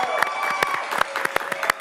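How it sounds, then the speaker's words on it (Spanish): A crowd claps and cheers, heard faintly through a phone line on a radio call-in show, with irregular sharp claps rising and falling over about two seconds. "Usted oyó su aplauso."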